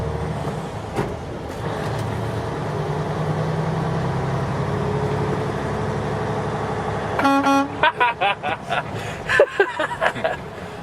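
A 2014 Freightliner Cascadia truck horn sounds in a series of short, loud honks close by after a stretch of steady cab engine drone, with people talking.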